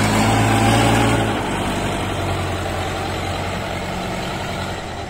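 New engine on a river boat in the Mekong Delta during rice harvest season, running with a steady low drone that is loudest in the first second and then holds a little softer.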